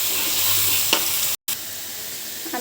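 Onion, garlic, chili powder, turmeric and cumin-coriander powder frying in a pan while being stirred, a close, steady sizzle with a spatula scrape near the one-second mark and a brief cut to silence midway.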